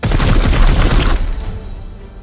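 Gunfire in the video game Warhammer 40,000: Chaos Gate - Daemonhunters: a loud, dense burst of rapid shots for about a second, then a booming tail that fades away.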